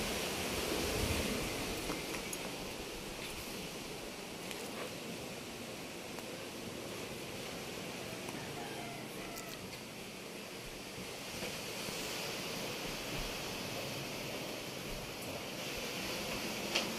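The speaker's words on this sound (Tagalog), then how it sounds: "Tubig pala yan" Steady rushing water, like surf or waves washing, fills the scene around a large wooden boat hull newly sheathed in fiberglass. The wash is continuous and moderately loud, with wind-like hiss, and no voices.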